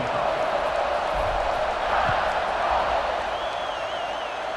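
Stadium crowd roar at kickoff in the College Football 26 video game, a steady loud wash of massed voices filling the whole stretch, with a brief whistle-like tone near the end.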